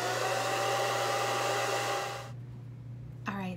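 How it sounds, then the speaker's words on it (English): A handheld hair dryer roars loudly and steadily while blow-drying hair with a brush, then switches off around two seconds in, leaving quiet room tone and a brief clatter near the end. "getting the brush and kind of blow drying it like this"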